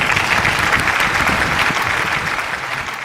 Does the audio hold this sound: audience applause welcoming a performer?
yes